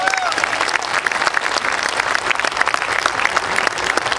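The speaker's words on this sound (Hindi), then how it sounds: "एक बार सारे लोग इसरो के लिए जोरदार तालियां बजाइए।" Loud, dense applause from a crowd at a comedy and cultural stage show, clapping for ISRO after a satellite launch is praised, steady and continuous throughout.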